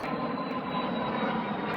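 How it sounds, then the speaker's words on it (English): An airplane passes overhead near a garage where a 1955 Chevy 210 is being fitted with a 305 small block, its steady broadband engine roar holding loud and even throughout, with no talk. "Airplane!"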